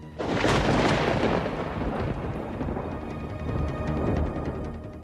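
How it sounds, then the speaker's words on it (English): A loud clap of thunder sound effect breaks in, then rolls into a long, deep rumble that lingers and swells again toward the end. "He pressed a button that said thunder."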